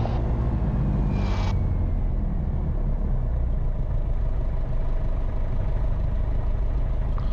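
Light aircraft engine idling at high RPM before takeoff on a Gloucester to Bristol flight, a loud continuous low drone with rapid rhythmic pulsing, steady throughout.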